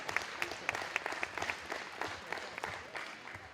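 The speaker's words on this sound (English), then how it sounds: "Again, a nice round of applause for Dre Tumanen." An audience applauds a basketball player at a Mid Michigan College basketball ceremony, with steady mid-distance clapping from a moderate crowd and a few sharper individual claps standing out throughout.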